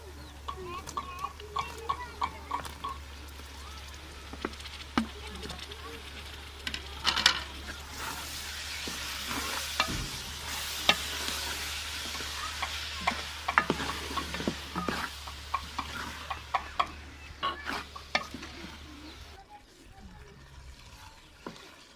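Tomatoes fry and are stirred into a chicken tomato karahi masala, making a constant sizzle with repeated spoon scrapes and clicks against the pan close up, with a low hum underneath.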